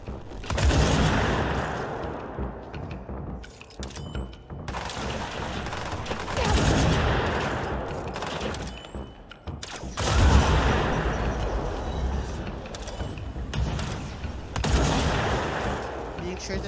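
Bursts of gunfire against enemies in the shooter game Control, rapid volleys and sharp shots in several waves with mechanical clanks between them, fairly close, with a voice talking at times.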